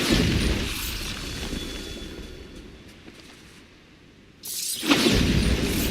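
Bombarda blasting spell explosions in Hogwarts Legacy, a heavy booming blast at the start that fades over several seconds, then a second loud boom near the end.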